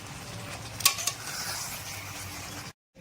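Chicken sautéed with spice masala in a pan, a low sizzle with a couple of sharp utensil clanks against the pan, close by, ending abruptly.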